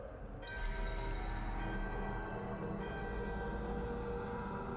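Bell tones in Dragon Age: The Veilguard sound inside a bell structure: a sustained, resonant ringing that swells after a brief lead-in and holds steady, fairly loud, with no talk.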